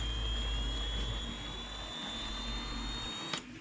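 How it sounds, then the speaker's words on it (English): Small drone motors spin up on a newly installed RacerStar Rev35 35A 3-6S 30x30 4-in-1 ESC, giving a faint, steady high-pitched whine that climbs slightly in pitch, with a brief click near the end. "let's plug up and see if we can get these motors spinning"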